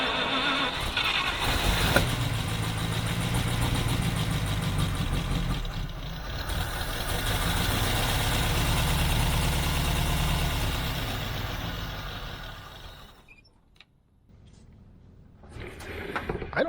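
A 1950 Buick engine starts up after refuelling and settles into a low, steady idle, heard at moderate distance, then fades out near the end before a brief return of noise.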